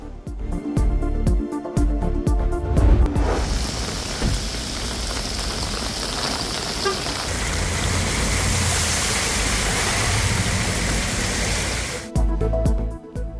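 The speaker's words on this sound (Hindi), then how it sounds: "दुबई में तूफानी बारिश ने जल थल एक कर दिया, सड़कें पानी पानी" Stormy torrential rain floods streets in Dubai as a loud, dense rush of downpour and running water, steady for about nine seconds and bracketed by brief musical stings at the start and end.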